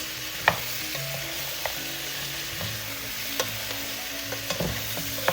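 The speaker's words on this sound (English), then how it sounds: "let's give this a mix" A spoon stirs sinigang pork neck bones in a pot with ginger, onions, tomatoes and garlic. There is a steady low sizzle, with scraping strokes and a few sharp clinks of the utensil against the pot.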